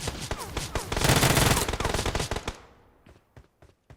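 Dense bursts of automatic gunfire in PUBG Mobile, rapid cracking shots overlapping into a loud fusillade, then thinning to a few scattered, fainter shots.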